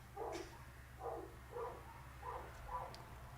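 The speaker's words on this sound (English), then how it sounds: "the dogs downstairs are having a party, I think" Dogs downstairs bark in a faint, muffled series of about five yaps spaced roughly half a second apart, distant through the floor over low room hum.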